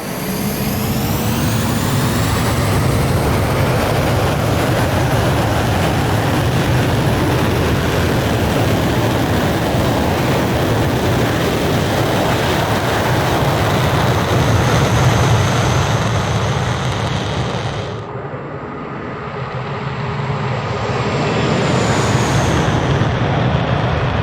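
A BAE Hawk T1 jet trainer add-on in Microsoft Flight Simulator climbs out on a sortie over the Lake District and Scottish Borders, giving a loud, continuous engine roar that briefly dips and then swells again near the end. No one speaks.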